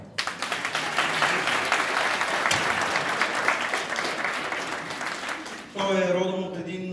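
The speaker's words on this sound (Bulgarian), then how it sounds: "Аплодисменти и за Тихомир Иванов." A theatre audience at a drama theatre in Montana, Bulgaria, breaks into dense, sustained applause that fills the room for several seconds, then a loud voice cuts in over the fading clapping.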